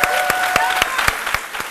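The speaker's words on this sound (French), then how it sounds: "On peut les applaudir très fort," A studio audience claps through a French midday talk show, a dense burst of applause with sharp individual claps standing out near and steady throughout.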